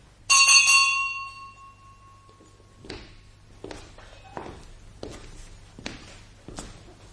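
A house doorbell rings once with a bright, sustained chime, followed by a few scattered footsteps and taps, quiet and near.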